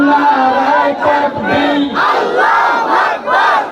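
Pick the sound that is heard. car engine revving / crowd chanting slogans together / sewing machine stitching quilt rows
crowd chanting slogans together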